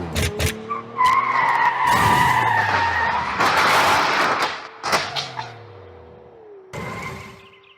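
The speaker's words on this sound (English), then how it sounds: "this is like a car chase, car crash scene" A high-energy car chase and crash scene, with repeated tire skids and squeals, roaring engines and sharp impact bursts layered in a dense, loud action soundtrack.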